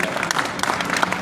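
Crowd clapping at a kavi sammelan, the Prayagraj Mahakumbh poetry gathering, in a short, busy burst of applause that stays fairly loud and even from start to finish.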